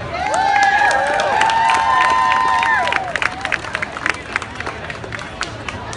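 A crowd claps and cheers loudly for a Houston hustle and salsa dance team, with whoops and shouts over steady applause that thins to scattered claps and chatter in the second half.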